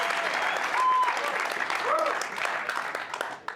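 A basketball crowd applauds and cheers in a continuous wash of clapping, with faint voices and whistles scattered through the noise.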